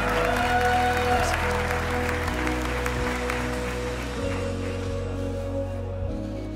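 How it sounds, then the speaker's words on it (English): A church congregation applauding in unison at an Easter service, a dense steady wash of clapping over sustained background music, loud and continuous before slowly tapering off. "let's give a huge round of applause to our pastor, Pastor Ben Johnson."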